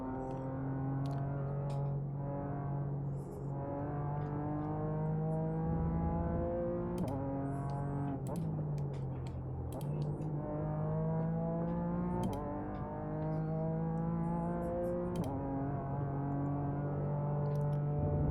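Prototype race cars close in during a GT4 Open race at Spa in the iRacing sim, engines droning loud and steady with repeated rising rev sweeps and gear changes, no talk.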